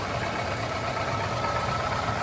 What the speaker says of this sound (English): You can hear those solid lifters on those aluminum valve covers.